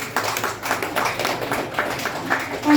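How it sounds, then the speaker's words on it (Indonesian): Applause rings out for student participants after a school Indonesian-language debate between SMK Negeri Nibaaf and SMK Negeri 1, a steady patter of many hands clapping at moderate loudness through the whole moment. "Kita berikan aplaus yang meriah dulu dong."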